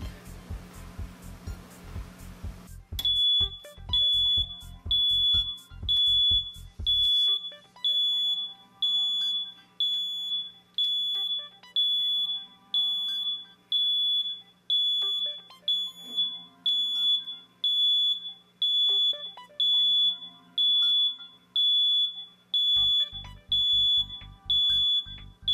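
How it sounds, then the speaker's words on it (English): A digital timer beeps steadily while geothermal pipe is heat-fused on a 500-degree tool, giving a long run of sharp, regular beeps at roughly one-second intervals, with machinery rumbling at the start and end. "This is our timer."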